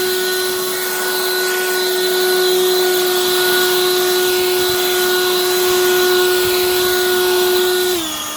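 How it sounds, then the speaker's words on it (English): Harbor Freight Lynxx 40V lithium cordless leaf blower running at regular speed to clear leaves off rocks: a loud, steady motor whine with a strong fan tone, held close and continuous, dropping slightly in pitch at the end. "So I like to blow the leaves out here so I can rake them up"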